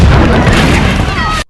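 A massive explosion booms in an action film scene after a firework is kicked away, a loud dense roar of blast and debris that fills the whole moment before cutting off abruptly.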